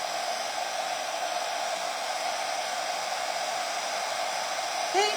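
A heat tool blows steadily to warm foil trim for a craft project, a continuous even whoosh held for several seconds with no talk over it.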